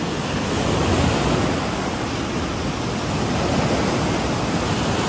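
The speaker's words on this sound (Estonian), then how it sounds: "Ja siin on nii palju lained" Ocean waves on the coast near Marbella, Spain, make a loud, steady broadband roar of surf, continuous and close without distinct breaks or voices.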